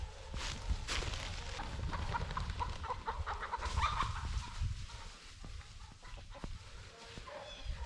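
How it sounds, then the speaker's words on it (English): Chickens, including roosters, cluck and squawk in a flustered burst, close by in hay, with scattered bird calls and rustling over a steady outdoor background. "I just scared a bunch of chickens on accident."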